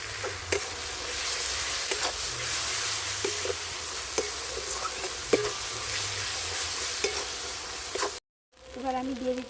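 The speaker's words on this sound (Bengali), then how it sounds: "পেঁয়াজ রসুন আর টমেটো দিয়ে আমার শুকনো লঙ্কাটা দিয়ে কষে নিচ্ছি মশলাগুলোকে খুব সুন্দর করে" Onion, garlic, tomato and dried chili sautéing with spices in a pan for a duck curry, a steady close sizzle with scattered pops and stirring scrapes throughout, briefly cutting out near the end.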